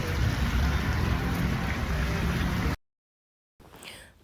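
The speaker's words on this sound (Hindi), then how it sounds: "बारिश हो रही है बहुत जोरों की बाहर" Steady, heavy downpour in Himachal Pradesh roars across the whole band for nearly three seconds, then cuts to silence before a quieter stretch of rain resumes.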